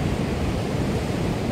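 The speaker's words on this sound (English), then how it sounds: "every now and again you get this huge wave crashing over" Large ocean waves crash on the shore in Foz, Porto, a dense, continuous roar of surf filling the scene with no voices.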